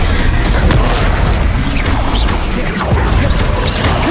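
An Incendio fire spell in Hogwarts Legacy produces loud, continuous roaring booms and crashing impacts with whooshing bursts, filling the whole moment at high volume amid intense game combat noise.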